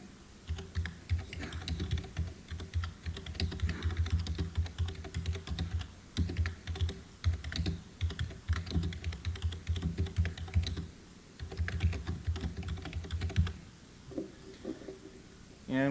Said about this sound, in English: allows us to type in a reply here.